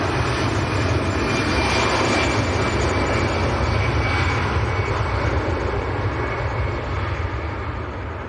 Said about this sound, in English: Blowing a gale straight across the runway. Aircraft seem to be handling it okay at the moment.